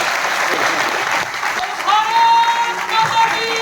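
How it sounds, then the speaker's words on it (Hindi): A crowd at a motivational talk in Gwalior claps together, a steady, full burst of applause with a few tonal cries rising over it near the end. "तालियां बजाओ"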